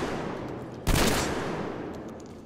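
A single shotgun blast in the video game Metro Exodus, one sharp loud bang with a decaying tail after a quiet stretch.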